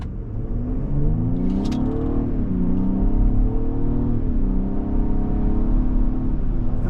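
A 2024 Lincoln Aviator Reserve with a V6 and quad-tip exhaust pulls away from a standstill, its engine a smooth, steady rising drone with gear-shift dips, heard from inside the cabin and fairly subdued.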